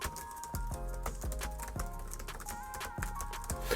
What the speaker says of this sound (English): when you're typing on them, you get a nice click feel. Listen to that click.